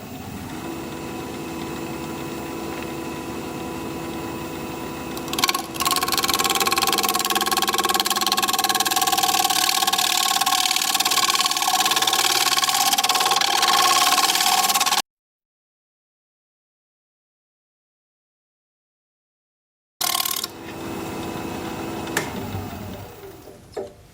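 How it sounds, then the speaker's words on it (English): A wood-turning scraper is sharpened on a bench grinder, a steady droning motor whine with a grinding hiss running continuously. It cuts out to silence for a few seconds, then starts up again briefly, with a couple of small knocks near the end. "I'm going to put a fresh edge on my scraper and scrape."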